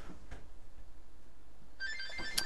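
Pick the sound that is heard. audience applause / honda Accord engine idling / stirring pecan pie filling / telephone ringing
telephone ringing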